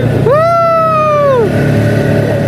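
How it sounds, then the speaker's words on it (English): A Polaris off-road vehicle's engine rumbles steadily through a ride across a resort property in Munnar. A rising and falling whooping voice rings out over it near the start. "they do also provide a Polaris ride across the property"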